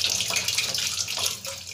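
Tap water pours steadily into the tub of a semi-automatic washing machine, a close, continuous splashing hiss with no talk over it.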